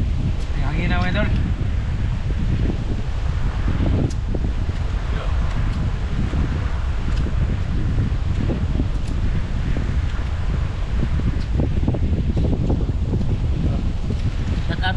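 Strong wind buffets the microphone on a seashore during crab catching, a constant loud roar with rustling bursts, while voices call out faintly beneath it.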